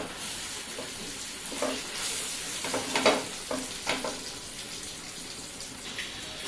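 Ground masala with kasuri methi is sautéed in oil in a pan for restaurant-style paneer masala, giving a soft sizzle broken by several spatula scrapes and stirs near the middle, close but quiet.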